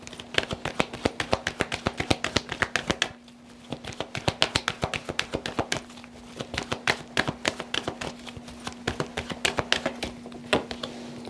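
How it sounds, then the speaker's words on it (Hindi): Tarot cards shuffled by hand in quick, rapid riffling bursts with a short pause near the middle, close and crisp, with a steady low hum underneath and no speech. "तो कार्ड्स को शफल करते हैं पायल नंबर 3 के लिए"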